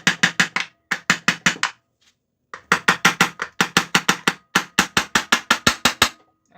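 A metal hammer strikes a stuck part on a Honda Biz C100 motorcycle engine during disassembly, a loud run of sharp metallic blows in quick rhythmic bursts of four to eight hits separated by brief pauses.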